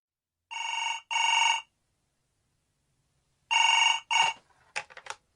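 A telephone rings with two long electronic trills in quick succession, a pause, then two more, the last cut short as the handset is picked up, with a faint clatter following.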